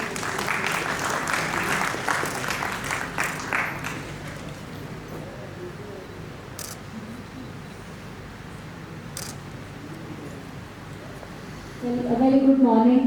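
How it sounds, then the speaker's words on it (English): Audience applause at a school talk session, moderately loud clapping from a seated crowd for a few seconds, then fading to room ambience before a voice begins speaking. "Please give a huge round of applause."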